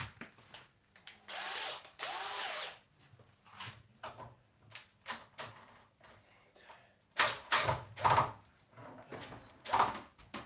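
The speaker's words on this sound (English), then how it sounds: "I'll have to whack that screw in and out a couple of times" A screwdriver drives a screw into wood during stair building in a workshop, heard as short, separate bursts of close, quiet whirring and grinding with pauses between them.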